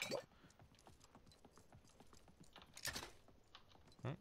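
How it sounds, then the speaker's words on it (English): Horse hooves clip-clop in the video game Realm Royale, a quiet run of rapid, even clops under a few louder thumps and clicks from gameplay. "the horse hooves always seems to, like, I keep noticing them so readily, and it just kind of annoys me just how they sound."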